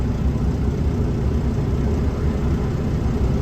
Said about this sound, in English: And now it's idling fine.